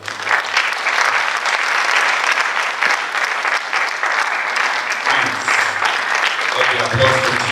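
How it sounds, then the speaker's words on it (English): Sustained applause from an event audience welcoming the next speaker, a dense steady clapping that fills the whole stretch, with faint voices and a brief murmur near the end. "A big round of applause for Miss Goldana Adabuadu"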